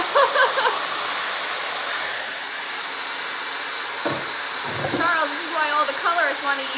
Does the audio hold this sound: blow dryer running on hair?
yes